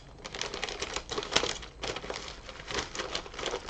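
Plastic packaging from a Temu parcel crinkles and rustles up close as it is opened by hand, with dense bursts of crackling in an irregular rhythm; fairly quiet and without talk.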